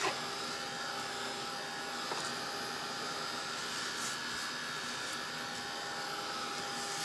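A heat tool drying antique white paint on a snowman craft shelf sitter: a continuous, fairly quiet whirring blower hum that runs steadily from start to finish with no talk.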